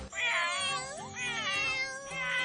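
A cartoon cat meowing in a Doraemon episode, several drawn-out, pitch-bending meows in quick succession, clear and close with no talk over them.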